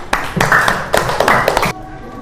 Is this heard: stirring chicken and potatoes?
no